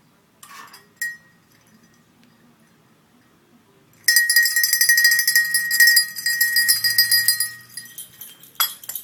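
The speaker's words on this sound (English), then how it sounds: "This is the bell, and Tex is supposed to come when I ring it." A hand-rung recall bell for a dachshund jangles loud and sustained for several seconds after a faint metallic clink, its bright metallic ringing continuous and close, with no talking.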